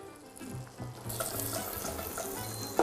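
Butter and sugar foaming in a pan as they begin to caramelize for a tatin-style pain perdu, a soft continuous sizzle and bubbling hiss heard alone and close.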